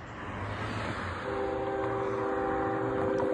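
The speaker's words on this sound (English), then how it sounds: "There's like a train roaring toward this way." A CSX freight train, the M410, approaching a road crossing on South Avenue: steady heavy rumble with a sustained horn blast rising in from the middle, loud and continuous.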